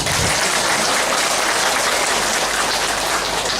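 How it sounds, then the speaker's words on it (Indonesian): A crowd at a village religious gathering claps, a dense, loud, steady wash of applause lasting throughout without a break, with no voices standing out. "Tepuk tangan dulu."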